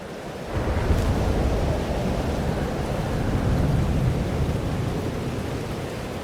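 A rolling thunderstorm in the video game Life is Strange Double Exposure, with a low, continuous rumble of thunder, wind and rain that swells after a quiet start and holds steady and loud to the end.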